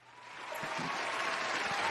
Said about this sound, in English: I might get the applause out for him, bro.